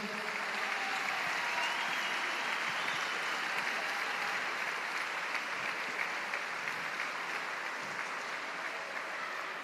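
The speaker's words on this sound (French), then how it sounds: "On peut les applaudir généralement." Sustained audience applause at the final of an international Cesta Punta tournament in Saint-Jean-de-Luz, a dense, steady wash of clapping from a large crowd lasting throughout without pause.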